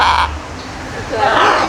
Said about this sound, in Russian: Вот столько много попугаев тут живет.